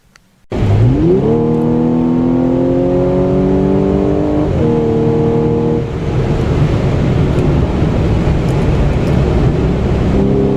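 An Audi S4 driving at night, its engine starting up and revving, then holding a steady hum with a brief gear change, loud and close throughout with no talk.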